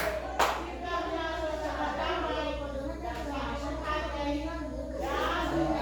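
Clapping in a school classroom during an Indonesian language lesson, applauding a student group, a steady patter that stays mostly beneath continuous talk and children's voices, with one sharper clap near the start.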